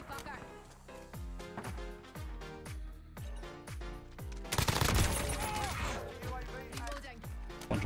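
M4A1 rifle fire in Call of Duty: Modern Warfare, loud and close: rhythmic single and burst shots at a steady pace, then a dense, sustained volley near the end, with a voice talking over the shooting.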